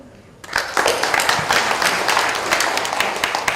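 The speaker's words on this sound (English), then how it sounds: "It's a big applause for her." A large audience at a public health conference panel discussion breaks into sustained, dense applause that starts abruptly and holds steady and loud to the end.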